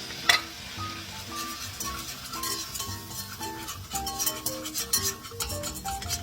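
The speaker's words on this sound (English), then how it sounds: "You're gonna whisk that in so you can get your roux." Butter and flour whisked together in a pot for a roux in a home kitchen, a steady sizzle with scraping, stirring and occasional metal clinks against the pan, close and fairly quiet, with no one talking.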